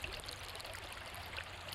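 Nine Mile Run creek flowing steadily, a soft continuous babble and trickle of water close by with no voices over it.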